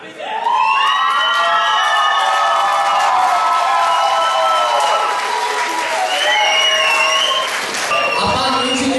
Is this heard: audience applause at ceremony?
yes